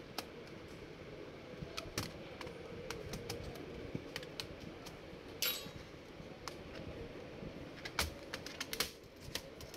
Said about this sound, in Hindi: ये अच्छी कीबोर्ड ओपन हो गया इसका।